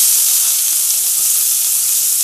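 Chopped onions sizzling in hot oil for a spicy egg curry, a loud, close, continuous bright hiss of frying with no talk over it.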